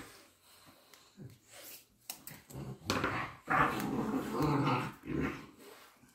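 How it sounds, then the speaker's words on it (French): A dog growling playfully in short, snorting bursts, fairly close and moderately loud, with uneven pauses between rumbles and no talking. "N'ayez pas peur, ce n'est pas un combat de chien. Il s'amuse"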